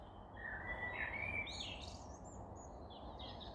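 A bird sings outdoors on an evening walk in England, a run of high whistled phrases at moderate distance over a steady low background hum, continuing throughout with no talking.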